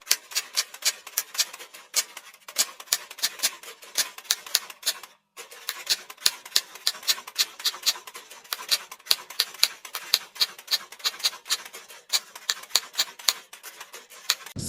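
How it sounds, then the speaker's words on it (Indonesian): Rapid keystrokes on a typewriter as Sayuti Melik types the Indonesian independence proclamation text: sharp, close clacks in a fast, uneven stream, with one brief pause midway and no other sound. "Sayuti Melik pun mengetik teks tersebut."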